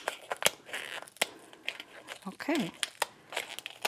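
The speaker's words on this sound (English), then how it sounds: "take our little snipper scissors and cut down the soft parts" Small snipping scissors cut through the soft parts of a cooked lobster shell, giving sharp crackling snips and crinkly crunches close up, while a person says a brief word partway through.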